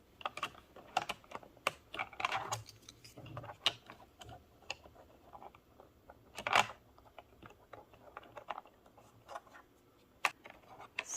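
Typing on the keys of a Freewrite Smart Typewriter fitted with swapped aftermarket keycaps: a steady run of close, crisp key clicks with uneven rhythm and a few louder clacks, no voices.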